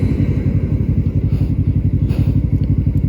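A Suzuki GSX-S 400cc naked motorcycle rides past in Japan, its engine thumping in a fast, even pulse, loud and close for the whole stretch with no talk.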